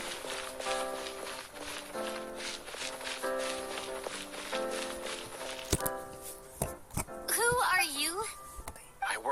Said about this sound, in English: You hear footsteps outside.